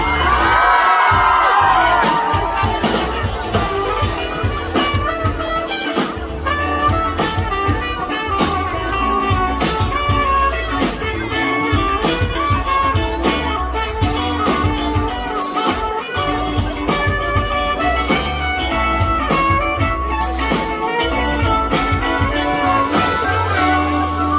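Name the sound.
concert crowd screaming and cheering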